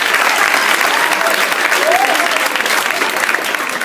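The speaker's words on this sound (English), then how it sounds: "Everyone, please give a big round of applause for Samantha" Audience applause fills the room in a dense, steady wash of clapping lasting several seconds, with faint voices and a brief cheer mixed in.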